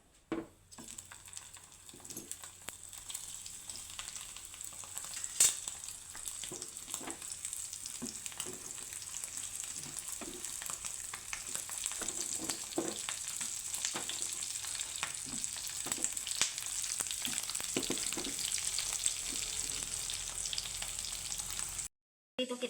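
Dried fish fries in hot oil, a constant crackling sizzle with scattered pops and stirring scrapes, close and steady for over twenty seconds without talk.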